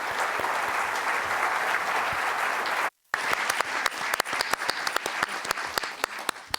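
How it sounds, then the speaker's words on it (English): An audience at a literary panel event in a central public library applauds the panelists, a dense, loud burst of clapping that breaks off for a moment and then resumes as scattered, distinct claps. "Let's give a round of applause to tonight's panelists"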